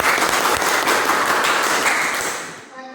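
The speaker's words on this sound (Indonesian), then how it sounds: "Tepuk tangan dulu." Classroom applause from a group of students fills the room with steady, dense clapping, then fades out near the end.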